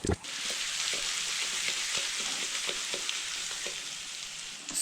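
Sweet potatoes sizzle steadily in a pan of garlic butter, a bright, continuous frying hiss with small crackles and soft stirring clicks throughout.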